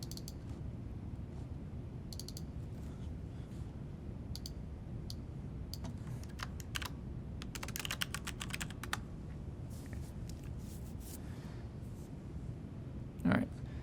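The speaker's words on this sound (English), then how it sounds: "I'm going to double click on the measure and then type in population density." Faint, quick clicks of typing on a computer keyboard come in short bursts over a low background hum.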